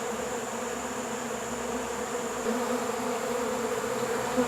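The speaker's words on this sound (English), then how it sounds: "just put them out near the hives in my backyard and just kind of let the bees clean up the rest of the honey out of the wax" Honey bees swarm around wax frames left out near hives in a backyard, a dense continuous buzzing drone that stays loud and steady throughout.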